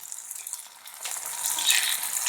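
Tomatoes drop into onions and garlic frying in oil, and the pan sizzles louder and brighter after the addition, a close, hissing crackle with no voices.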